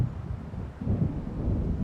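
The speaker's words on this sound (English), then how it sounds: "It seems there's a storm coming." Low rolling thunder from a storm rumbles in the video game Alan Wake, a steady deep roar that swells midway and keeps going to the end, with no voices over it.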